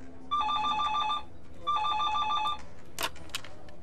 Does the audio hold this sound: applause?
no